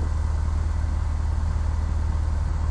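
A Cessna 172 Skyhawk piston engine runs up for take-off on the runway, a steady loud droning hum with a strong low pulsing beat, continuous and close.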